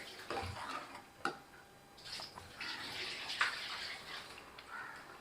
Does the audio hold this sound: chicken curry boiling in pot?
yes